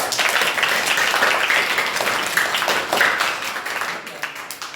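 Audience of children and adults applauding at a government primary school gathering in Gudihal, a dense burst of clapping for several seconds that gradually tapers off.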